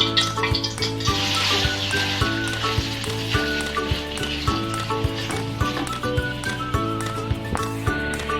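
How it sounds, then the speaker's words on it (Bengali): Boiled noodles fry lightly in oil for restaurant-style American chop suey, a continuous close sizzle with intermittent clinks and stirring knocks over a steady tonal hum in the background. "হালকা ভাজা ভাজা করে নিব।"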